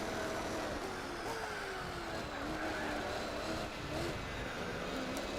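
A race car engine in Gran Turismo 4 drones steadily and loudly, its pitch climbing through gears and dropping at each shift, with occasional faint tire squeal.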